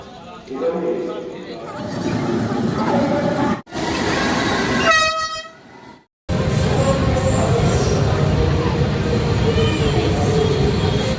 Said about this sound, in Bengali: এসে গেছে কিন্তু ট্রেন